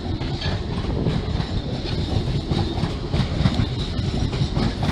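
A train running through Basingstoke station, its steady rumbling roar and rhythmic clickety-clack of wheels over rail joints carrying on loud and close the whole time, with faint metallic squeals above.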